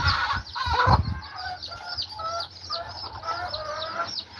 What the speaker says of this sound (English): Got a sad little chickie.